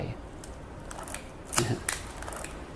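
Film advance lever of a Canon Canonet QL19 film camera being cocked, a few close, crisp mechanical clicks and ratchety snaps, with the loudest pair in the second half, over quiet room noise.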